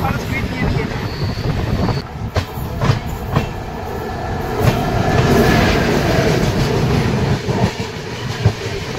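The Padatik Express rolls over a bridge across the Kaljani river, its steady rumble and clickety-clack of wheels mixed with wind buffeting the microphone, while voices murmur in the carriage.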